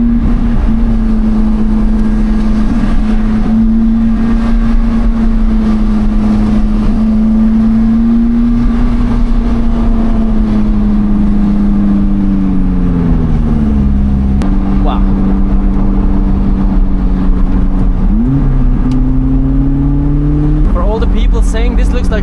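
A motorbike ahead on a winding road with blind corners, its engine droning loud and steady while it accelerates hard, the pitch dipping and climbing through gear changes, heard from a following car over constant road noise.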